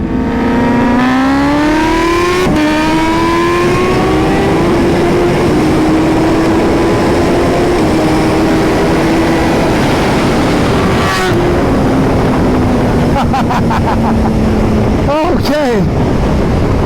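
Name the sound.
Suzuki Hayabusa and Kawasaki Ninja H2 motorcycles racing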